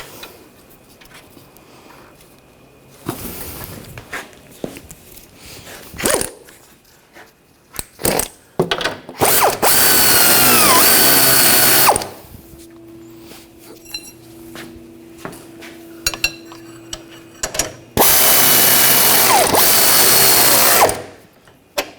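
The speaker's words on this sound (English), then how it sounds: "And get the nut started." Power-tool bursts drive a nut onto the rear upper control arm bolt of a 2014-2020 Nissan Rogue, two loud sustained whirring runs of several seconds each, separated by metallic clinks and handling noises.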